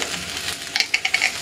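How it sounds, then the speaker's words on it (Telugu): Dried red chillies drop into a pan of half-fried onions, a soft hiss followed by several quick crackling pops near the end. "సో ఉల్లిపాయలు సగం వేగిన తర్వాత ఎండుమిర్చి వేస్తున్నాను"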